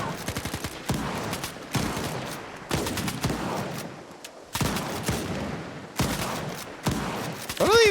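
Bursts of video game gunfire from a squad sweeping an area, coming in repeated loud volleys with short gaps between them, the shots rattling in rapid clusters.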